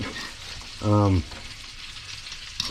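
Pasta sauce with meatballs simmers in a pan while being mashed with a small Chinese spatula, giving a soft continuous bubbling sizzle broken by one brief, loud tonal sound near the start.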